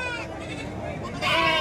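Goats bleating at a busy livestock market, several wavering bleats close by, one rising louder near the end, over a murmur of crowd noise.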